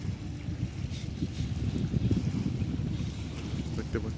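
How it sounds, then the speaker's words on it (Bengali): Gentle breeze blowing by the Padma river, a soft continuous rush with light buffeting against the microphone and faint water sounds beneath. "ঝিরি ঝিরি বাতাস আসতেছে"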